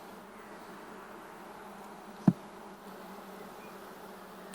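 Bees from an opened beehive during an inspection, a steady low buzzing hum of many insects at moderate volume, interrupted once by a brief sharp knock.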